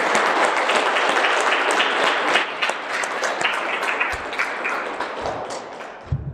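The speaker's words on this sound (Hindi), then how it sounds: "चलो एक बात तालियां बजाओ सब अपने लिए।" A group at a yoga session claps hands together, a dense burst of many overlapping claps that thins out toward the end, with no speech.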